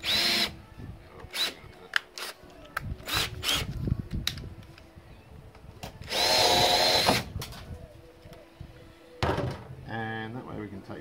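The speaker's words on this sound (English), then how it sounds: "I think we'll drill these out." A power drill bores out plastic trim clips on a Mitsubishi GH Sigma, sounding in several short whirring bursts and one longer run, with clicks and handling noises between them.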